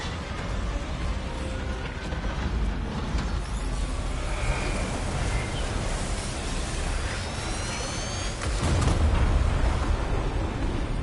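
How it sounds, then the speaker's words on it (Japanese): A massive explosion in the video game Exoprimal rolls on as a long, loud, dense roar with rumbling debris noise, swelling to a heavier blast near the end. "ローゾル化爆発が発生します。"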